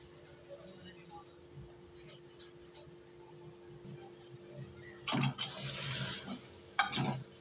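Goat lungs stir-roasted with spices over a high flame, a low sizzle with scraping stirs that grows louder and busier toward the end, under steady speech.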